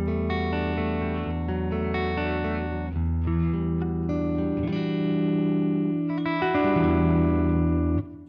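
A clean electric guitar played through the Deluxe amp model of a Line 6 Helix multi-effect processor, ringing chords and single notes with sustain and light shimmer, played alone and steady.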